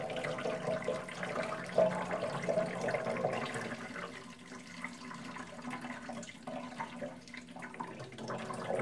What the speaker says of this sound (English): There's a couple of litres of water, so I'm going to chuck it all in.